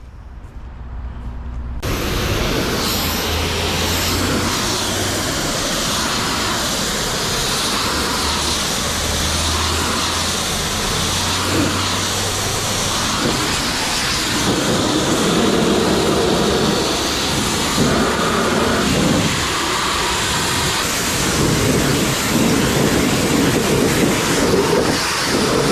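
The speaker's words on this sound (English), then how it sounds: "Now I just washed off the road grime real quick" A pressure washer blasts road grime off a truck with a loud, steady rushing hiss that runs almost unbroken for about 24 seconds after a brief quieter start.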